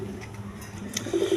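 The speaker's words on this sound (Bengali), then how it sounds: "দর্শকবৃন্দ এইখানে এক পেয়ার খাক্কি কবুতর আছে" A pair of milk khaki pigeons at a farm gives one short, soft coo near the end of a brief, quiet stretch.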